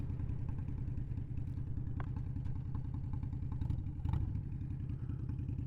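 A motorcycle being ridden gives a steady, low rumbling engine drone with slight rises in pitch and occasional faint clicks and rattles, heard close and continuous throughout.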